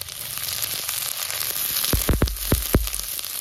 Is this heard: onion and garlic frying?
yes